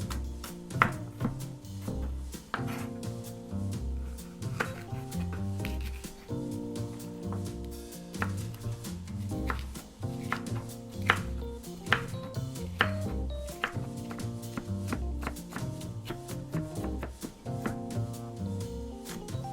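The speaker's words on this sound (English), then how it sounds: "We're going to cut up some green capsicum now" A knife chops green capsicum on a board in quick irregular bursts, with scattered clicks and clatter from utensils.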